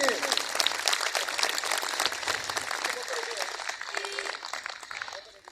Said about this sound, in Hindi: इसके लिए ताली बजा लीजिए।